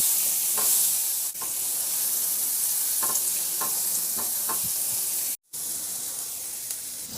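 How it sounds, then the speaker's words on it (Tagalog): Garlic and onion sautéing in a hot pan, giving a loud, continuous sizzle and hiss with occasional stirring knocks and a brief break near the end, no voices. "igisa ko na yung bawang. Ilagay ko na rin yung sibuyas."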